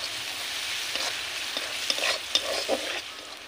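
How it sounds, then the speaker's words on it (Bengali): Onions fry in hot oil with whole garam masala, a constant close hiss with scattered stirring scrapes and taps in the middle, and no talking. "পেঁয়াজটা আমি ভালো করে ভেজে নেব।"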